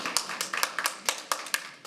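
An audience at a school board meeting applauds in a short, steady patter of claps that rises and falls over a couple of seconds, with no voices on top.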